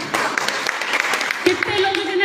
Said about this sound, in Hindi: क्या बात है, जोरदार तालियां।